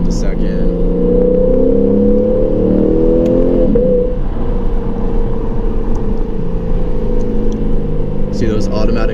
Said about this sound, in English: Downshift into second.